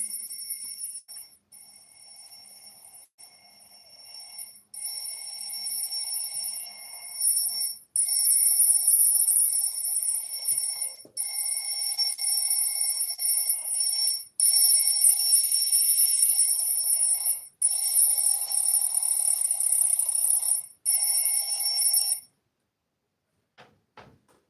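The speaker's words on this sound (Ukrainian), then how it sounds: "Вибачаюсь, телефон другий задзвонив." A second phone rings during a prayer, a bright electronic tone repeating in regular bursts with short gaps for about twenty seconds before it stops, fairly loud against an otherwise quiet room.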